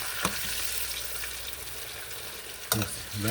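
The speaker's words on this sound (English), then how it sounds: "they're getting golden brown. You just gotta let them" Thick potato coins fry in hot oil toward golden brown, giving a steady close sizzle with a few sharper clatters of a utensil or shifting pieces near the end.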